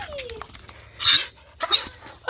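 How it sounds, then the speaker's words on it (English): Outdoors on a walk in a pine forest by water, a dog gives two short high whimpers in quick succession, close and fairly loud, over a low steady background hum. "That's a dog wanting us to follow him."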